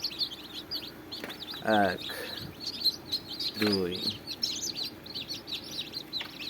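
Tiger-breed chicks chirping in a busy chorus of high peeps, with a couple of louder hen clucks and a voice counting briefly.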